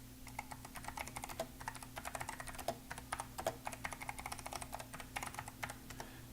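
Rapid, continuous typing on a computer keyboard, close and clear, with irregular bursts of clicky keystrokes over a faint hum.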